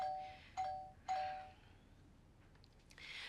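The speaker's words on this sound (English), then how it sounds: "Doorbell." A doorbell chimes indoors, two bright ding tones ringing one after another and decaying over a quiet room, followed by faint shuffling, with no voices.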